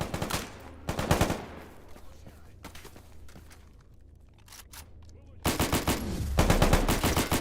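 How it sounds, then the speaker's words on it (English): Gunfire rattles in STALKER GAMMA: bursts of automatic fire and sharp shots come in clusters, loud at the start, thinning to scattered distant pops in the middle, then a heavy sustained burst near the end. "Someone's shooting me up the hill."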